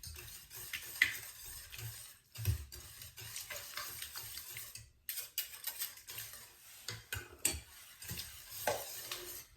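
Honeycomb cake batter being stirred and mixed in a bowl, with scraping and sloshing strokes that rise and fall in bursts, two short pauses breaking the otherwise steady mixing, close and moderately quiet.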